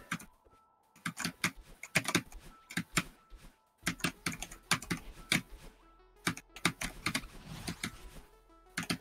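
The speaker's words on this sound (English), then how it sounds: "I'm sorry about my loud keyboard" Loud mechanical computer keyboard typed in quick irregular bursts of sharp clacks with brief pauses, close up, during a Celeste speedrun.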